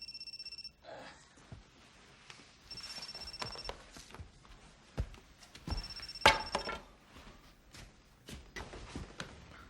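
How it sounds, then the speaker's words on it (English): A telephone rings in a scene from the film Battle Royale, producing bright trilling bursts separated by gaps, mixed with footsteps, thumps and other movement sounds at moderate to faint level. "it's even more brilliant when his phone rings."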